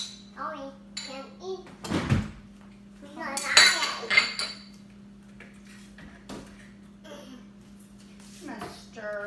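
Metal utensils scrape and clink against a pot in a home kitchen, a few sharp clattering bursts with quieter stirring between, under a steady hum and with people talking.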